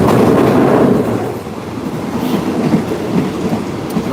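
A passenger train rolling on rails, a loud continuous rumble with rattling car noise and faint clickety-clack from the wheels, steady from start to finish with no talking.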